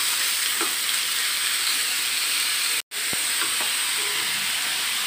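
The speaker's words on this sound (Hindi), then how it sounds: "अब इसमें हम ऐड कर देते हैं लौकी। इसको अच्छे से खूब पकाएंगे।" Bottle gourd frying in a pan for egg bhurji gives a loud, steady sizzling hiss that cuts out for a split second midway, with faint scraping taps from stirring and no talk.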